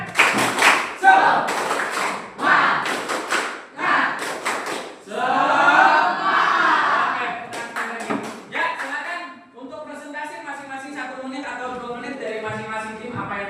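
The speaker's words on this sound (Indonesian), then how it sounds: "Oke, tepuk semangat." Students in an Indonesian class perform the tepuk semangat chant, several sharp bursts of group clapping followed by a chanted, sung stretch of voices in unison, fairly close and lively.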